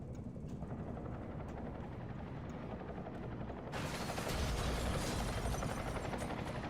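A helicopter in a video game drones with a steady rotor chop that suddenly grows louder and brighter partway through, continuous and fairly close, with no speech.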